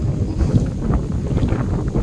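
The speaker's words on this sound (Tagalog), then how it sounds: "Oh, ang hangin." Strong, cold wind at a lakeside park in Taipei buffets the microphone with a loud, rough, continuous rumble and gusty roar.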